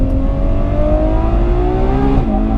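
A loud Ferrari 812 Superfast engine revs steadily higher in pitch, then drops sharply near the end as a gear shifts, close and continuous, on a track.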